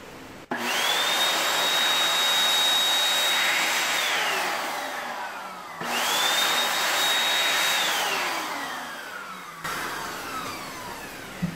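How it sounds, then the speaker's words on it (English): A handheld air blower runs steadily and loudly inside a budget desktop computer, drying contact cleaner, in two long blasts that rise and fall with a short gap between them and a brief restart at the end. "So para masigurado nyo lang, i-blower nyo lang."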